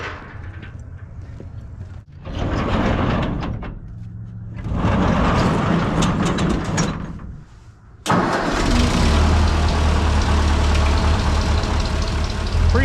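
An old farm tractor engine cranks and starts on a cold morning, cutting out and turning over in bursts before catching and settling into a loud, steady idle while it warms up.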